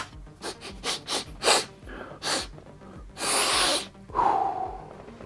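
Several sharp, close nasal sniffs come in quick bursts, followed by a longer deep inhale and a short exhaled snort, taken from a Warhammer Age of Sigmar miniature figure with no talking.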